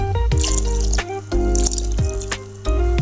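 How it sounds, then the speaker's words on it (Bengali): Cold water pours into a jug of banana lassi ingredients in a few short bursts, with gurgling splashes and drips between pours, close and fairly loud, no talk. "বরফ নাই, তাই আমি দিয়ে দিলাম ঠান্ডা পানি।"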